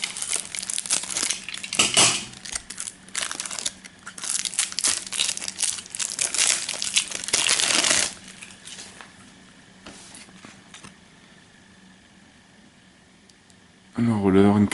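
Crinkling plastic wrap being torn and handled while opening Munchkin card packs, loud rustling bursts through the first half, then quieter handling and another burst at the end.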